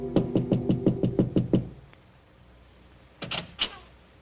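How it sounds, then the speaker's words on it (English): Soft knocking at an apartment door in a radio drama: a quick run of about eight light, evenly spaced raps, followed after a pause by a few more faint taps, heard alone without talk. "there is a soft knock at his door"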